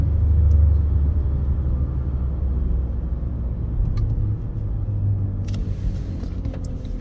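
A 2019 Ford F-150 drives under moderate throttle, a continuous low engine and road rumble heard from inside the cab, fairly even with slight swells and a few faint clicks near the end.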